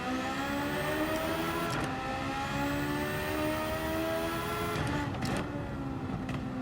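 A turbocharged race car in Gran Turismo 7 holds a steady high-revving engine note at Interlagos, with two brief gear-change dips around the two- and five-second marks. The engine drones continuously and fairly close, with no voices.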